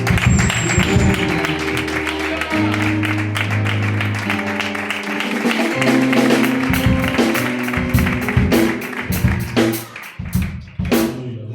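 A church congregation claps steadily for several seconds after a sermon. The applause is dense and fairly close, and a tonal hum or music runs underneath.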